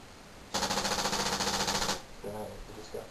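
A motion-detector-triggered paintball gun fires a rapid, loud burst of repeated shots for about a second and a half, followed by a short stretch of fainter rhythmic noise.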